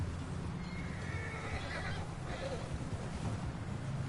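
A horse whinnies over the steady rumble of hooves in a Western-style game, with a cart crossing toward a bridge during a storm, the galloping constant and close.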